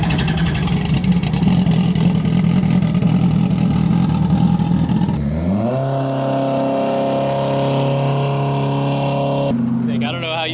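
A 1300HP turbocharged jetski engine roars hard and rough, then shifts into a steadier rising whine with strong tonal harmonics, loud and close, with voices around it.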